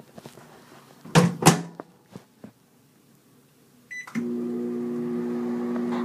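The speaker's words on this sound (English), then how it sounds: "let's open a little microwave right up here" A microwave oven door clunks open and shut with a couple of sharp knocks, then a beep sounds and the oven starts up with a steady, close-up humming drone.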